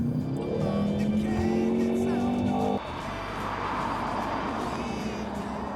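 A Jaguar F-Type rear-wheel-drive British sports car on the move, its engine note rising in pitch before a sudden shift to a broader, rougher roar, with steady road and tyre noise underneath.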